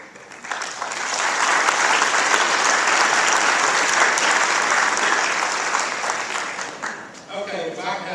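Audience applause at an annual public servants appreciation luncheon, a dense, loud burst of clapping that swells quickly, holds steady for several seconds, then tapers as the room settles.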